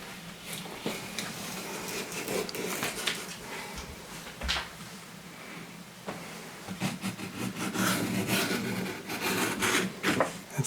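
A knife trims excess leather off a homemade knife strop, making faint, close cutting and rubbing scrapes in irregular short strokes.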